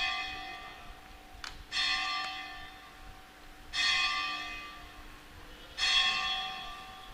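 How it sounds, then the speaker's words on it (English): A clock bell strikes three times at slow, even intervals, and each ringing tone hangs on and fades before the next. A steady hum runs underneath, and no talk is heard. "Bell has rung."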